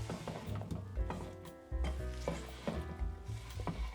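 Chopped rhubarb and strawberries tumble into a saucepan on a stove, a series of soft thuds and clatters with faint scraping and light sizzle, close and fairly quiet.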